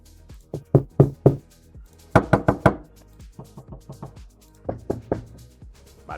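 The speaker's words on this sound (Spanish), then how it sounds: "el golpear la puerta para llamar." Knocking on a door, an AI-generated effect, comes in several separate bursts of three or four sharp raps each, close and clear, with quiet gaps between the groups.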